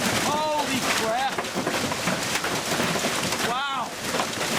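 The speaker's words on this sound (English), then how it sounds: "Holy crap, we got big pieces of hail coming through." Big hailstones fall in a thunderstorm in Creve Coeur, Missouri, making a dense, steady clatter and hiss close by, with wind noise and excited voices over it.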